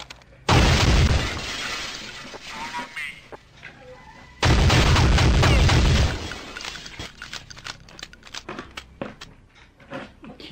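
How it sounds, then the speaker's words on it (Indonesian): In Counter-Strike Condition Zero, a gas canister explodes in two loud, close bursts a few seconds apart, each a harsh blast with crackling debris, followed by scattered gunfire and clatter. "Itu meledak gasnya."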